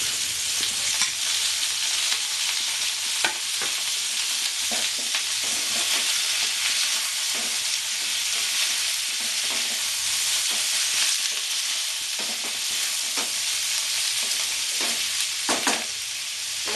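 Cabbage frying in a pan for a Bengali-style mixed vegetable dish, a constant bright hiss of sizzling with scattered clinks and scrapes from stirring, close and steady throughout without any voices.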